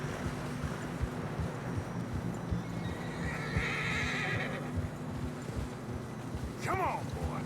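Horse in the Red Dead Redemption II video game, with hooves clopping steadily through fresh snow on a cold mountain trail and a loud whinny near the end, over wind noise.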